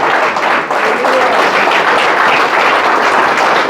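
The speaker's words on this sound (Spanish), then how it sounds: "Fuerte el aplauso al Señor." A church congregation applauds, a thick, steady wash of many hands clapping at once, loud and close, holding without a break from start to finish.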